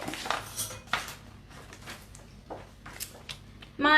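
A metal tablespoon is picked up from among kitchen utensils while making homemade Anzac biscuits, with light clinks and taps through a quiet room, ending in a brighter metallic rattle.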